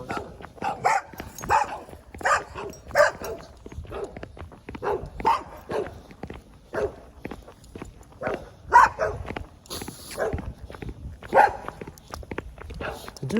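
Several dogs bark repeatedly at a steady, rhythmic pace, loud and fairly close, with a few whimpers and faint footsteps and voices mixed underneath.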